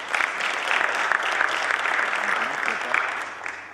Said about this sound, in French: Merci de vos applaudissements.